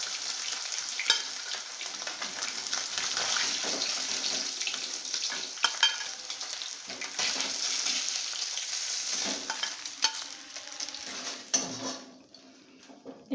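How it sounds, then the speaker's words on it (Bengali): Fish pieces for dahi katla sizzling steadily in hot oil in a pan, a continuous close crackle with occasional clinks and stirring, no talking. "এরপরে যে মাছগুলো আছে সেগুলোকে আমি এইভাবে আগে সব ভেজে নেব"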